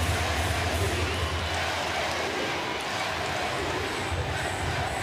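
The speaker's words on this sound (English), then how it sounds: "Crowd is fired up." A volleyball crowd at a Nebraska versus SMU match roars steadily after a long rally, a dense, loud wash of cheering with no breaks.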